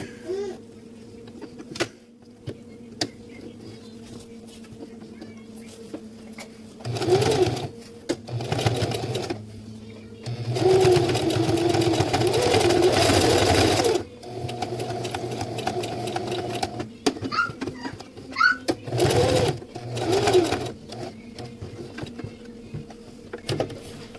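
Sewing machine stitching PALS/MOLLE webbing on an accessory pouch, running in several bursts of steady mechanical whirring, with the longest run in the middle, separated by short pauses and quieter handling noise.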